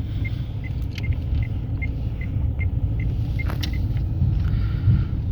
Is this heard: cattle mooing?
no